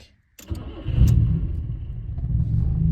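A car that has just had an air-conditioning evaporator fitted cranks briefly, then catches and settles into a steady, close-up idle rumble.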